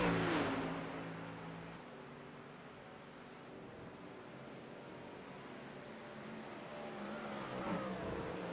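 A Cadillac race car blasts past on the Kemmel Straight at Spa, loud and close at first, then a steady engine roar recedes into the distance before building slightly again.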